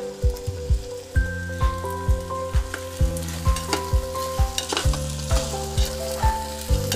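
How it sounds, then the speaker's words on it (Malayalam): Soaked rice frying in a hot pan for vegetable pulao, with a steady crackling sizzle and regular stirring scrapes recurring about twice a second, close and fairly loud with no talk. "അരി ഒന്ന് ഒരു 2 മിനിറ്റ് വഴറ്റിയാൽ മതി."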